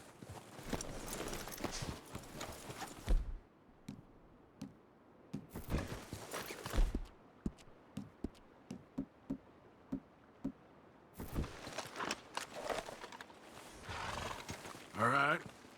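Horses in Red Dead Redemption 2 clop along in bursts of close hoofbeats, with snorts and a whinny, as characters speak quietly between the movements.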